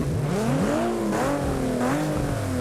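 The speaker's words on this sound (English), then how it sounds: "And that car just sounds phenomenal." A German drift car with a swapped VQ engine revs hard in a BeamNG drift event, its loud rasping note climbing and falling in quick surges, close and alone.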